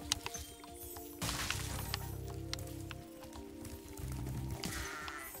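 In the video game Crash Bandicoot N. Sane Trilogy, sheep bleat in a couple of short, buzzy calls over game music and effects, moderately close.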